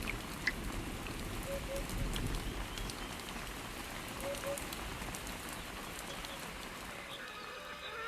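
Steady rain patters on the ground throughout, a constant hiss with faint scattered drops, and a brief animal call in the distance.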